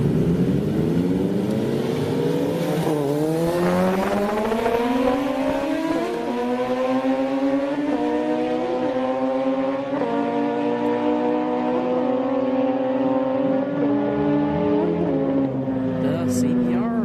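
Honda CBR motorcycle drag racing on a track, a loud sustained engine roar rising through several gear shifts with repeated drops and climbs in pitch, alongside other vehicle noise and some crowd chatter.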